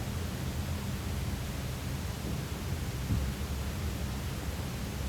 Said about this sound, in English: The engine hums.